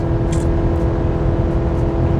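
A Chevy 1500 pickup with the 2.7L TurboMax four-cylinder (L3B) engine pulls a trailer up steep Appalachian mountain grades, giving a steady, loud, continuous drone of engine and road noise with no talking.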